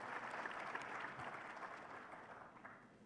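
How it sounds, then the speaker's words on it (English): Sustained applause from an audience, a steady wash of many hands clapping that eases off slightly toward the end. "Please give a round of applause."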